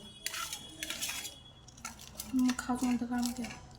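A crispy bakery-style egg puff made with whole wheat flour is cut, giving a few sharp crunching crackles and clinks close by while a voice talks over them.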